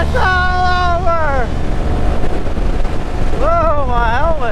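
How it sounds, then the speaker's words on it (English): Strong, continuous wind roars across the microphone while a motorcycle rider talks over it. "God, it's windy."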